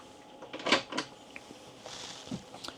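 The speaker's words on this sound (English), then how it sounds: "I think one of these is cutlery tray, and then you got like a little pantry pull-out drawer there as well." A pantry pull-out drawer in a Burstner B66 motorhome slides and knocks faintly, a couple of soft close-range clunks and rattles over a quiet room.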